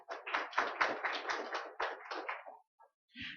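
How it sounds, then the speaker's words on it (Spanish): Audience at a seminar on tax and labor aspects of the construction industry breaks into a short burst of close, lively applause that fades after about two and a half seconds, followed by a brief sound at the end. "Efraín Salvador Miramón, a quien pido un fuerte aplauso."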